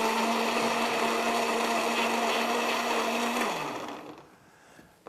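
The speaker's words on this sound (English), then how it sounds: "And we blend it for 4 seconds." A kitchen blender whirs loudly and steadily while blending chopped celery and water, then winds down and stops after a few seconds.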